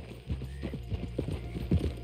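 Horse hooves clip-clop in Red Dead Redemption 2, a thoroughbred at the Braithwaite manor, with a steady run of close, fairly loud hoofbeats and a brief whinny-like note near the end.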